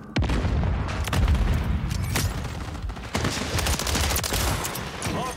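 Grenade blasts and sustained gunfire from Call of Duty Modern Warfare III, a dense loud barrage of rapid shots and booms running throughout with no pause.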